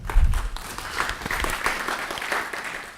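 At a business pitch event, a crowd gives a quick, loose round of clapping for a presenter named Oscar, with scattered claps and a low thump at the start.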